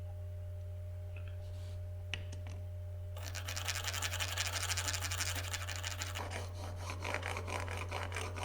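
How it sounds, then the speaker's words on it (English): A chisel blade is rubbed by hand on a sharpening stone, a close, steady rasping scrape of repeated back-and-forth strokes beginning after a few soft taps, over a constant low electrical hum. "it's worth learning to do this sharpening without using the guide"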